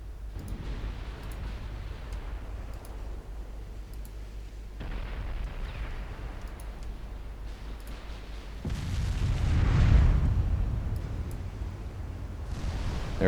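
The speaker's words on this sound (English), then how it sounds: "They're firing everything at Edvard Grieg, but she should be able to take it." Warships firing their guns at the ship Edvard Grieg in a naval strategy game, a steady rumble of distant cannon blasts building to a heavy, booming swell of impacts.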